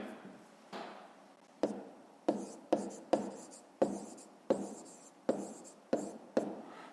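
Chalk or pen tapping and scratching out a fifth-grade math solution on a board, about ten sharp strokes with short scraping tails arriving in an uneven rhythm, close and moderately loud with no talk.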